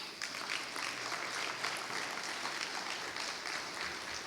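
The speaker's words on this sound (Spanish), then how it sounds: "Denle un aplauso a Cristo." Church congregation applauding together during a sermon, a steady dense wash of many hands clapping at moderate distance, continuous and even throughout with no voices standing out.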